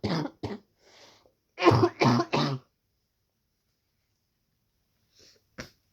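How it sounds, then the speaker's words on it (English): A few close, sharp coughs in quick succession, a pause, then another cluster of harsh coughs, with near silence between. "Not me actively trying to modulate my cough to be less annoying."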